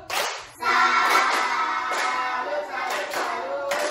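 A classroom of young primary-school children performs a patterned rhythmic clap routine, sharp bursts of claps in a set beat with brief pauses, loud and close, with children's voices chanting along.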